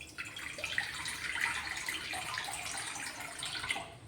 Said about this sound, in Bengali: কিছুটা জল দিয়ে দেব।